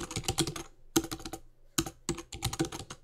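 Quick bursts of keystrokes on a computer keyboard, three short clusters of close, crisp clicking separated by brief pauses.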